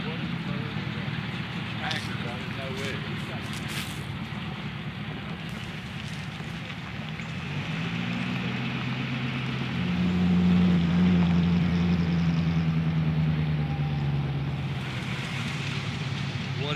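A 1933 Duesenberg engine runs with its header opened, giving a steady rumble that swells into a louder droning roar midway. Wind noise accompanies it, as heard from a moving car.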